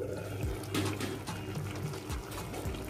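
Water is poured into a pot of beef curry, a continuous splashing pour running steadily throughout, moderately loud and close, with no speech over it.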